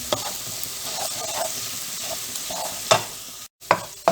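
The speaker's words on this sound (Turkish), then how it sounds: "Onları da bir güzel kavuracağım soğanımla beraber" Onions and tomato paste sauté together in a pan, a soft continuous sizzle broken by several scraping stirs and a couple of sharper clanks toward the end, with a short cut to silence and no voices.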